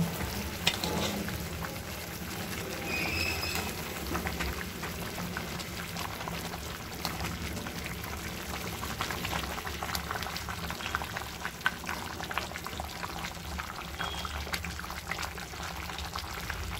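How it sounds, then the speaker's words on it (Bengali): Chicken curry with potatoes simmers after water is added, bubbling and sizzling steadily with soft stirring and sloshing throughout, moderately quiet and close. "পরিমাণ মতন জল নিয়ে এবার ভালো করে একটু নাড়িয়ে নেব।"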